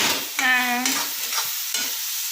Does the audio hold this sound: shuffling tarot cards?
no